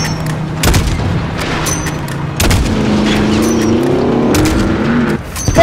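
Gunfire in Call of Duty Modern Warfare (2019), sharp loud shots and booms scattered over several seconds among vehicle rumble and explosions, close and intense.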